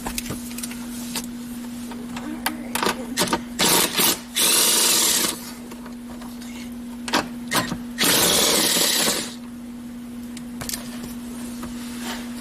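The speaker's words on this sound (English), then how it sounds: "Just worked my way across the dash, taking the nuts out." Power tool, likely a drill or impact driver, backing nuts off the dash of a 1999–2004 Jeep Grand Cherokee WJ during heater core work, with two longer whirring bursts and short clicks between, close by with a steady hum underneath.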